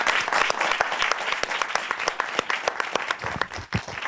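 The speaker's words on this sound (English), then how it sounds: "a round of applause for this excellent." An audience claps at the end of a conference panel, with dense, steady applause from a sizable crowd that continues throughout and tapers slightly near the end.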